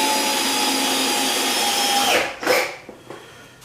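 A power drill drives a screw through a mounted pattern, whining steadily and loudly before slowing, then a couple of short final bursts as the screw seats.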